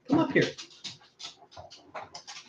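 A small dog whimpers and whines in a string of short, high, uneven cries, close by and fairly loud at first, then trailing off into fainter whines.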